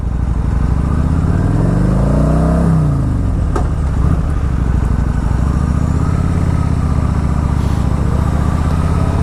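A Kawasaki Vulcan 900 motorcycle engine drones steadily while riding, with a brief rising rev near the start, loud and continuous throughout with no talk.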